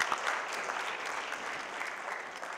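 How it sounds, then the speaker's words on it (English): Audience applause at a summit panel session, a steady wash of many hands clapping at moderate distance, sustained evenly throughout with no voices standing out. "give him another clap"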